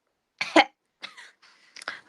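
A woman coughs in short sharp bursts, a close double cough followed by a few lighter coughs and throat-clearing sounds, loud and near against silence.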